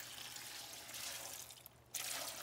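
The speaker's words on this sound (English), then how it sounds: "I'm going to add a little bit of water so they don't burn at the bottom" Water being poured into a 30 quart stock pot of plums, a faint continuous rushing splash that briefly pauses and then resumes.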